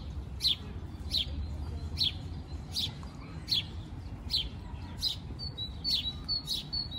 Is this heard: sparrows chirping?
yes